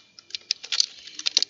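Quick, irregular clicks of typing on a computer keyboard, close and crisp, with short pauses between runs of keystrokes.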